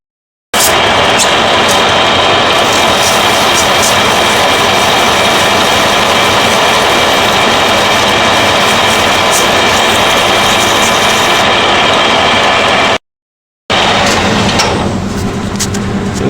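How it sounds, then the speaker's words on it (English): A lathe spins a seal flange while a groove worn by the seal's lips is polished out, giving a loud, steady machine drone that runs unbroken for most of the stretch, cuts out briefly, then resumes. "I'm just going to polish it up on the lathe before we put it back."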